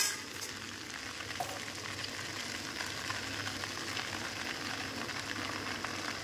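Chow mein style Maggi noodles frying in a pan before egg goes in, giving a steady, moderately quiet sizzle with light stirring scrapes throughout, no voices.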